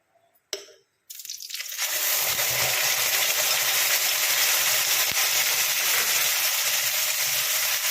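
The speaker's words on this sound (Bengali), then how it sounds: "এবারে আমি পেঁয়াজ বাটাটা দিয়ে দেবো" After a brief clatter, onion paste is dropped into hot oil in a pan and breaks into a loud, steady sizzle that continues close and uninterrupted while chicken is cooked.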